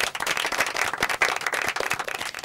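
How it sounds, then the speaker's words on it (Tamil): A studio audience claps and applauds a team on a Tamil quiz show, with dense, steady handclaps for a couple of seconds and no talking. "செங்காந்தல் அணிக்கு ஒரு பலத்த பாராட்டுகள் மற்றும் கைத்தட்டுகள்."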